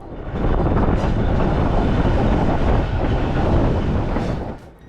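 Loud, steady rumble of a train running on rails as it loops back on itself, with a dense roaring hiss throughout that fades slightly at the end.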